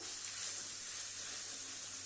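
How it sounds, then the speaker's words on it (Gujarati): Garlic paste sizzles in hot oil with mustard seeds for a garlic chutney, a continuous bright hissing fry that stays steady and close for two seconds with no talking. "પછી એમાં આ પેસ્ટ નાખવાની લસણની। કકડી ગઈ છે"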